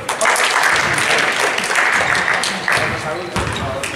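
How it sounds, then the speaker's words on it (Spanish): Applause at a basketball clinic, several rounds of clapping in a gym with mixed noise, some talk and a few ball bounces mixed in throughout. "Les hacemos aplaudir y ellos se sienten mejor."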